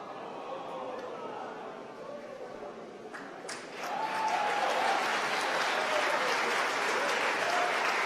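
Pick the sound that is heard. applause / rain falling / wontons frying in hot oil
applause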